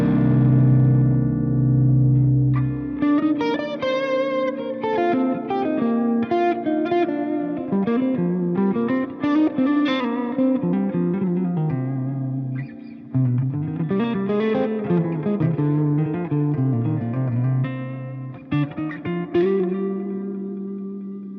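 An electric guitar plays through a Walrus Mako R1 reverb pedal, with a brief low sustained chord, then a long run of picked melodic notes trailing into a wash of reverb, loud and unaccompanied.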